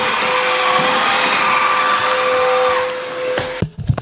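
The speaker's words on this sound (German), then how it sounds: "jetzt habe ich einmal in einem Abwasch quasi gewischt und gesaugt" A wet-dry vacuum cleaner both mops and vacuums a floor in one pass, a loud steady motor roar with a high whine that fades at the end, followed by a few knocks as it shuts off.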